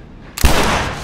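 A loud, sudden burst of gunfire in The Last of Us Remastered, erupting from near silence into a sustained, booming echo that trails off over a second.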